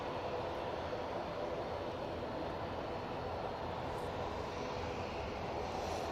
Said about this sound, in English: Beautiful rotation on that Dreamliner.